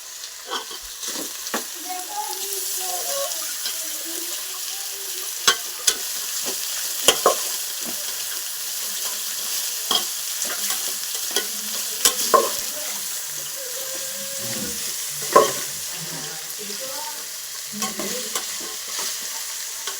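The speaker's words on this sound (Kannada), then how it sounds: "ಇವಾಗ ಫ್ರೈ ಮಾಡೋದು." Food frying in a home kitchen pan, a constant hissing sizzle with scattered spatula taps and scrapes throughout, close and steady, with faint voices now and then.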